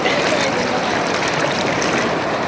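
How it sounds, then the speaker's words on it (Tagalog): Strong river current in Peñaranda, Nueva Ecija, rushing as a dense, steady wash of water noise close by, without pause for the whole stretch. "Sobrang lakas ang current ng tubig."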